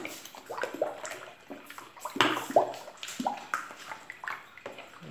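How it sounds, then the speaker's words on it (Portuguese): Water is poured into a bucket while making homemade liquid soap with anil, giving irregular splashing and gurgling bursts at moderate volume, with no one speaking. "Vou colocar o restante da água."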